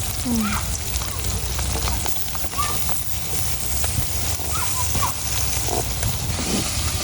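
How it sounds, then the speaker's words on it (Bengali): Fish fries in a pan during an outdoor village cookout, with a continuous crackling sizzle and scattered pops and clicks, fairly close and steady throughout. "এখন মাছ ভাজা হইতেছে"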